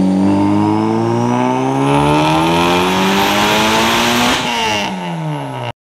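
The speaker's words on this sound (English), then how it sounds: "we wanna throw the car on the dyno, so let's see how it does" Big-turbo Honda Civic Si revving hard on a dyno, engine pitch climbing steadily through a long loud pull before a sharp drop as the throttle lifts, with no talk.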